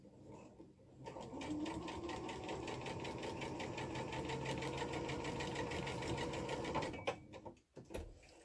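Fabric squares feed through a sewing machine in one continuous, fairly faint stitching run lasting about six seconds, with a fast mechanical rattle that stops abruptly near the end.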